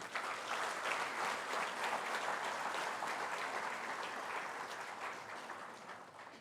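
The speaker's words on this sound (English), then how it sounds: "So please applaud whosoever is here." A large audience at a business school batch inauguration applauds the faculty in a steady, dense wash of clapping that holds throughout and tapers slightly at the end.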